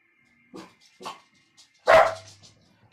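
A household dog barks indoors while a quilt is being mended: two short sharp barks, then a louder, nearer bark after a brief pause, with faint quiet noise between.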